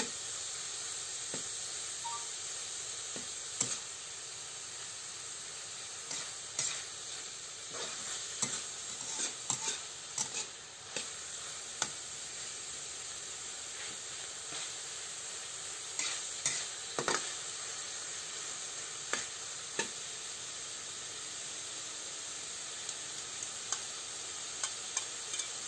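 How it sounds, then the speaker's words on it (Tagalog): Dynamite lumpia filling being stirred as it fries in a pan, with a steady soft sizzle and repeated scraping clicks of the utensil, close and alone without any voices. "haluin lang natin"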